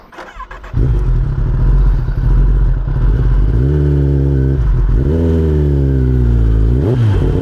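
A Kawasaki ZX10R motorcycle engine starts up and then revs loudly and up close, with rising and falling pitch sweeps across several throttle blips over a steady idle.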